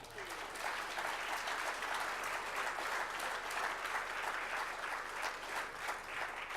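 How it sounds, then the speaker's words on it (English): A conference audience at the NSWALC Statewide Conference gives Joe a steady round of applause, dense clapping filling the room at an even level from start to finish with no voices on top. "if we could just give him a round of applause"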